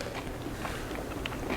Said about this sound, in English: I hope they can't hear me chewing.